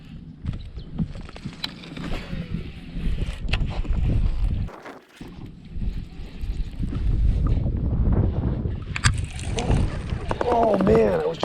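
Strong 20-mile-an-hour wind buffets the microphone on open water while fishing around dead grass, a steady low rumble with gusty surges throughout, dropping briefly near the middle and rising again toward the end.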